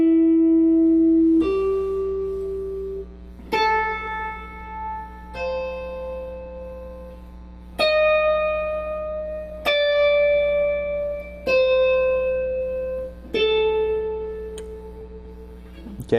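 An electric guitar plays a slow blues lick as a series of single plucked notes. Each note rings out and decays over one to two seconds, separated by clear attacks against a faint amplifier hum, with no talking.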